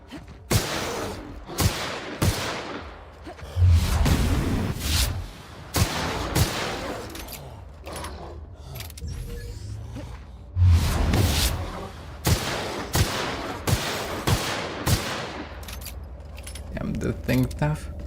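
Pistol shots ring out in The Outer Worlds, sharp cracks fired in scattered clusters with metallic clatter between them, close and loud, while someone talks intermittently.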